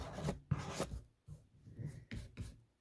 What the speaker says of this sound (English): I'm going to make some scrapes and some scratches and just do some different painting with my fork